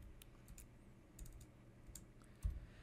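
Soft, quiet typing on a computer keyboard while writing Java code, with scattered light key clicks in an irregular rhythm and one slightly heavier tap near the end, alone with no talking.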